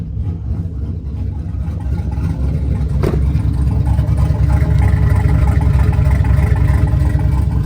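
A turbocharged car with a 76/65 ball-bearing turbo runs with its exhaust cutout open, a loud, deep engine roar that swells and builds as it accelerates, steady and close throughout.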